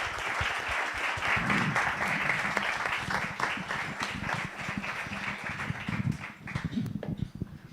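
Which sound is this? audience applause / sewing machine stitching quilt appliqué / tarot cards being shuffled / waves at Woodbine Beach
audience applause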